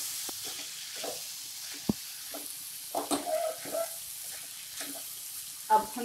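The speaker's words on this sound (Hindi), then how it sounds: "मसाले को हम अच्छे से मिक्स कर देंगे" Spices being stirred into green beans frying in a pan: scattered scrapes and clinks of a spoon over a faint sizzle, with a few sharper knocks, no talking.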